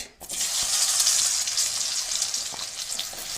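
Onion dropped into already hot, freshly topped-up oil while cooking a crab curry sends up a loud, steady hiss of frying that continues evenly for a few seconds with no talking.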